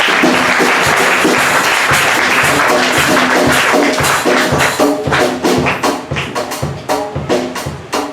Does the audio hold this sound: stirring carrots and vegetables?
no